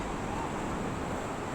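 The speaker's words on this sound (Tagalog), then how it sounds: "Ang ganda ng alon at medyo maliliit." Small ocean waves wash onto a beach at Igdanlog, Tobias Fornier, Antique, Philippines, giving a continuous soft broadband rush of surf with wind noise and no distinct breaks.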